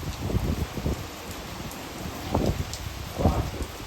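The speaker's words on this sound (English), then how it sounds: "It's windy out there, a little wet." Gusty hurricane wind from Hurricane Milton roars steadily with rain hissing underneath, swelling in loud rushes around the middle and near the end.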